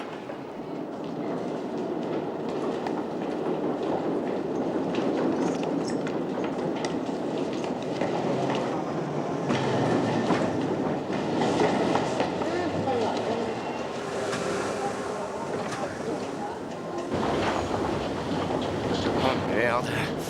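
A London Underground train rattles through a tunnel on a run between Liverpool Street and Bond Street, a continuous rumbling clatter of wheels and carriages with voices talking over it.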